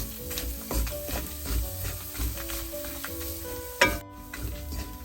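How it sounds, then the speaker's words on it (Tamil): Grated coconut and four or five dried chillies fry in a pan, a close crackling sizzle with stirring scrapes and one sharp clatter near the end. "இந்த தேங்காய்ப்பு அதோட ஒரு 4-5 சித்தல் மிளகாய் போட்டு அதை நான் இதோட வறுத்தெடுக்க போகிறேன்"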